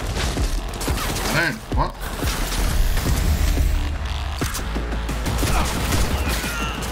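Gunfire erupts during enemy contact in the video game Cyberpunk 2077, a dense, loud and continuous burst of shots and impacts, with a voice briefly speaking over it.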